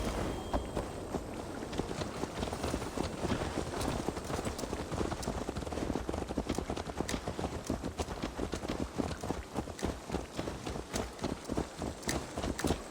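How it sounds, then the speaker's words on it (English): Horse hooves clip-clopping in Assassin's Creed Valhalla, a steady rhythmic run of hoofbeats over soft wind, growing more distinct and evenly paced toward the end, with no talk. "Guessing I'm supposed to take this horse."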